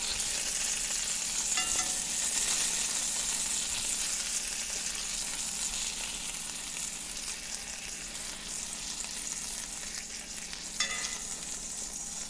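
Sausages fry in a pan, giving a continuous bright sizzle with occasional crackles and a couple of pops or utensil taps, fairly close and with no talking.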